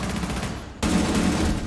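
Gunfire in the tactical shooter Rainbow Six Siege, a sustained burst of shots that grows abruptly louder midway and continues as dense, loud rattling, with no voices.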